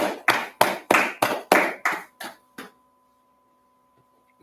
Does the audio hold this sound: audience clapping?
yes